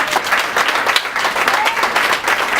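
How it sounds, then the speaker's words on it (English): A round of applause from the audience at a foundation thank-you event, with loud, sustained clapping from a crowd and some talk mixed in. "I'd like to ask for a round of applause for Mr. Elliott Steele, Diane Steele."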